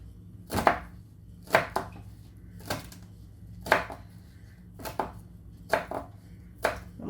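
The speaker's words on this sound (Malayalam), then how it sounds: "ഇനി നമുക്കിതിലേക്ക് പുതിന ഇലയാണ് വേണ്ടത്. അതും ചെറുതായിട്ടൊന്ന് അരിഞ്ഞെടുക്കാം." Mint leaves chopped with a knife on a board, eight crisp, evenly spaced chops about one per second, close up and clear, with no voices.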